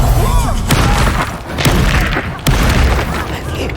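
A Reducto spell blast in the video game Hogwarts Legacy, heard as several loud booming impacts over a dense, rumbling battle mix.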